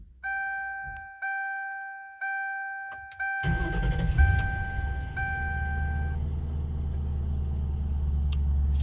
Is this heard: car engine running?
yes